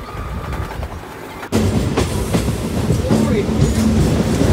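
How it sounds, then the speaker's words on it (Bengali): Train running after leaving Lakshmikantapur station, a loud steady rattle and clatter of wheels on track heard from inside the carriage, with rhythmic clicks and a sudden jolt as the noise rises partway through. "10 মিনিট পরেই ট্রেনটা ছেড়ে দিয়েছে লক্ষ্মীকান্তপুর থেকে।"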